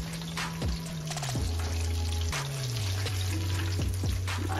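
Battered chicken fries in hot oil, a steady loud sizzle and bubbling that runs throughout, with a tone sliding downward in steps behind it.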